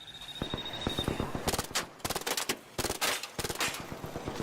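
A burst-fire weapon in the video game Arc Raiders shooting in rapid clipped groups, sharp loud cracks arriving in repeated bursts with short gaps between, close and dominant, with faint background talk.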